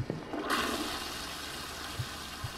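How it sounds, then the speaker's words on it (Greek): Water rushing in a bathroom of a haunted house in a video game, a sudden loud gush like a toilet flush that keeps roaring steadily, with a couple of small knocks near the end. "Μάλλον άρχισε το νερό στο μπάνιο."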